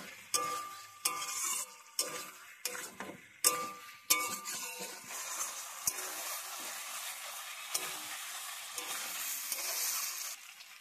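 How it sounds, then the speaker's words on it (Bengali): Fried potato, pointed gourd and pumpkin being stirred into a spice masala in hot oil, with a steady sizzle and repeated sharp scrapes of a spatula against the pan, close and alone. "মশলাটা যখন তেল ছাড়তে শুরু করবে তখন ভেজে রাখা আলু, পটল আর কুমড়ো দিয়ে ওই মশলার সঙ্গে ভালো করে নেড়ে নেব।"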